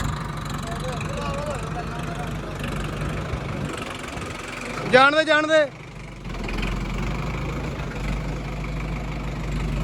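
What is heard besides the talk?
tractor engine running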